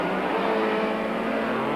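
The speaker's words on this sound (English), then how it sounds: "Draper uses the power of that huge V8 Chevy engine to his full advantage." A race car with a big V8 Chevy engine roars during a 1997 Super Series circuit race, a loud, sustained engine drone held at steady power.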